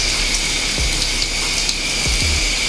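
Water runs steadily over starter dreadlocks during a hair wash with an apple cider vinegar rinse, a close, even hiss with a couple of soft low thumps.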